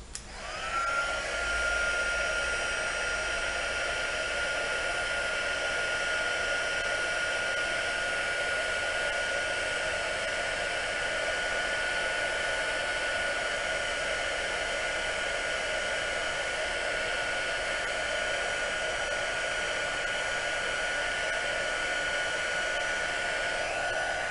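A dryer blows steadily to dry a craft key embellishment coloured with distress inks, giving a constant close whooshing hiss that holds unbroken for the full length with no speech.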